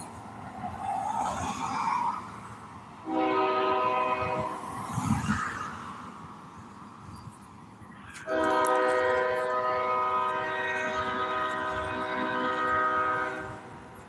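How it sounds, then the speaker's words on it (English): A moving train sounds its horn in two long, loud blasts with a rumbling gap between them, faint and distant at first and then closer. "The train is moving."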